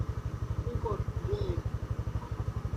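A motorcycle engine chugs with a steady, rapid thumping pulse on a muddy road, close and prominent, while people talk briefly over it.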